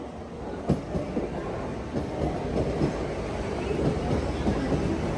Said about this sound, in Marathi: चर्चगेट विरार पहिली ट्रेन आली आहे